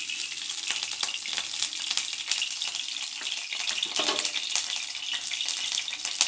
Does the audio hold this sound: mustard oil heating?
yes